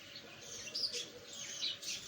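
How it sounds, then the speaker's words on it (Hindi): Small birds, kept behind a curtain, chirp faintly in short bursts on a morning in Mitru, Punjab, two or three brief tweets against a quiet background. "इस पर्दे के पीछे बर्ड्स हैं"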